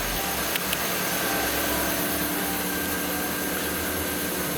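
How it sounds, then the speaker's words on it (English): An Audi TT engine idles during alternator repair work, with the heated seat and headlights switched on: a steady, continuous mechanical drone with a hissy, airy edge, even in level throughout and with no voices. "Probably hear the engines idling a lot better now."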